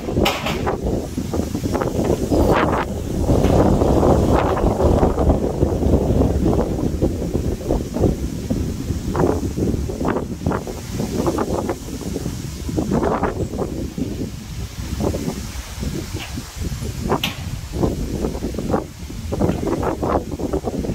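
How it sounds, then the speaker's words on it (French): A strong foehn windstorm roars along a riverbank in heavy, buffeting gusts that batter the microphone, loud and continuous with surging peaks. "Les gars, le vent qui arrive."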